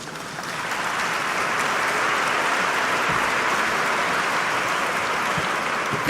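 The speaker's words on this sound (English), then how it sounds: "I know that applause is for Marty, right?" An audience at an airport event claps in sustained, even applause that swells slightly and holds steady, a dense wash of hands heard from within the room.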